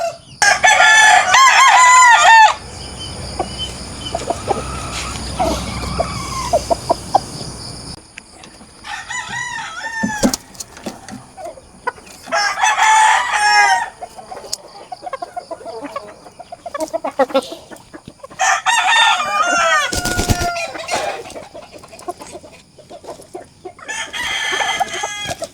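Pullet chickens on a breeding farm cluck and crow in repeated bursts, with sharp calls separated by short quiet gaps, fairly close and loud, no talk over them.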